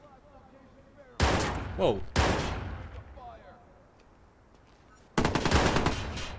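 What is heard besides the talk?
gunfire in the video game Watch Dogs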